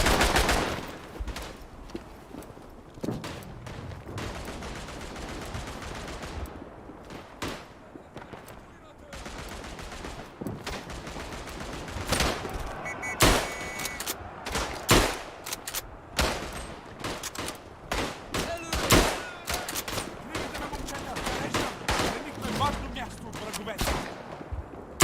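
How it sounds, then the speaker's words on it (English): Machine gun fire in the World War I shooter Tannenberg, with dense rattling bursts and scattered rifle shots through a sustained firefight, a voice talking intermittently over it. "They got machine guns and are shooting at the current machine gun nest."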